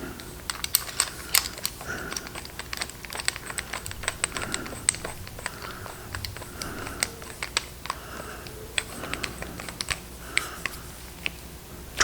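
Screwdriver bit tightened into the chuck of a hand brace drill, giving a run of small, rapid close clicks and ratcheting ticks, fairly faint and continuous throughout.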